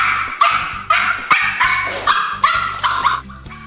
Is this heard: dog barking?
yes